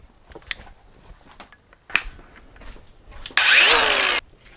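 An AEG power tool, used in place of a hacksaw, cuts through a bike part during an e-bike build with a short, loud buzzing burst after a few scattered taps and clicks.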